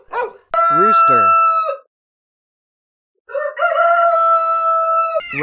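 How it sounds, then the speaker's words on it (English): Two loud, close rooster crows, each a long harmonic cock-a-doodle-doo, separated by a second and a half of silence, with no other sounds around them. "Rooster."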